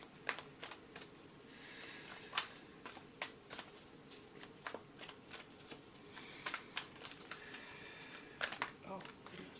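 Tarot cards are shuffled by hand in a series of crisp, irregular riffling snaps and taps, close and fairly quiet, with soft talk in the background between the card sounds.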